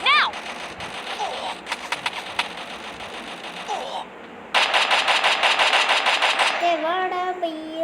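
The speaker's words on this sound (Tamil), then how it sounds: "ஷார்ட் கன் தான் நினைக்கிறேன் காய்ஸ்" Rapid bursts of gunfire from a shotgun in the Free Fire battle-royale game, loud and close, in clustered volleys with brief pauses, ending with a rising electronic effect tone.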